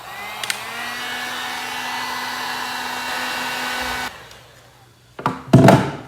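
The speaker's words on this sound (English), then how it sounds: "Okay, now I have the heat gun." Heat gun blowing hot air over a fluid acrylic painting to open up cells, a steady loud whooshing roar for about four seconds that cuts off, followed by a few brief knocks and handling sounds.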